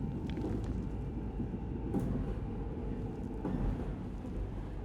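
A monorail glides through darkness in the game Void Inside, a low, steady rumbling drone with faint rattles and a couple of soft clanks, with no voices.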